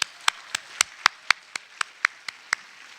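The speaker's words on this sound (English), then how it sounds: "A round of applause, please." Clapping at the Dallas ISD African American Read-In after a high school choir performs: about a dozen sharp, evenly spaced claps in a steady rhythm, fairly faint and separated by near-silence.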